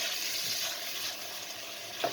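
Mustard seeds, chilies, fenugreek and turmeric hiss and crackle in a pan for a Sri Lankan curry, a soft, steady sizzle heard close with a small pop near the end.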